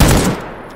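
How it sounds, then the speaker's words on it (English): A single loud, sharp unsuppressed AKM shot rings out in S.T.A.L.K.E.R. Gamma, a close booming crack that decays over a fraction of a second, with no voices. "Let me take off the suppressor on this thing and show you what the AKM sounds like unsuppressed."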